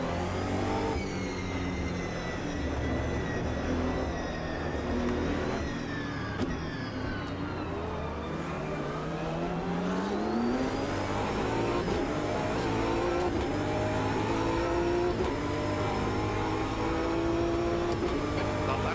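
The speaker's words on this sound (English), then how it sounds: "the BMW sounds really cool" A BMW race car engine in the video game Automobilista 2 revs and climbs through gears, its whine rising and dropping repeatedly, loud and continuous, with voices faintly underneath.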